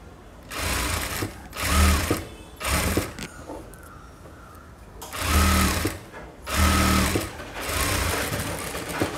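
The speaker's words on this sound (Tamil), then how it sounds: "இப்போ வந்து அப்படியே நம்ம ஸ்ட்ரைட்டாவே தையல் போட்டுக்கலாம்" A sewing machine runs a straight seam on a blouse in repeated short bursts of rapid mechanical chatter, close and loud, with brief slower pauses between runs.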